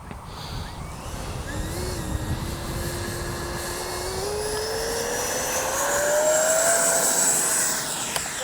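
A Freewing Red Hawk T1 70mm radio-controlled jet with takeoff flaps set spools up for takeoff under a clear sky. Its ducted-fan whine climbs steadily in pitch and grows louder over several seconds, with no voices.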